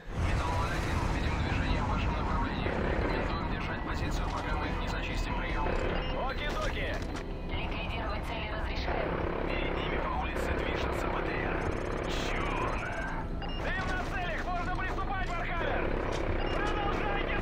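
A helicopter's rotor drones and buzzes continuously in the video game Call of Duty: Modern Warfare 3, amid loud game noise and bursts of gunfire, with people talking over it.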